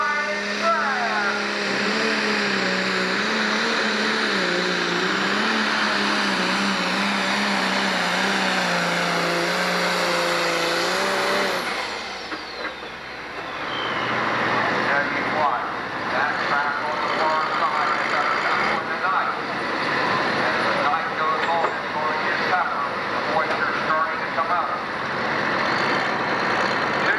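Loud, roaring engine of a John Deere 4250 pulling tractor in a 10,000 lb pro stock class at the 1998 Ohio State Fair tractor pull, a sustained strain that cuts off sharply midway, leaving a rumbling crowd-and-engine wash.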